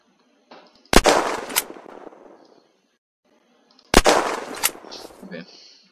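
Gunfire in the survival video game Unturned: two sharp loud shot bursts about three seconds apart, each with a couple of quick follow-up cracks and a decaying tail, separated by near silence.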